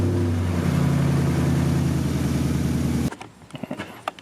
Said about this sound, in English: I'm going to start the engine, let it pump oil through the new filter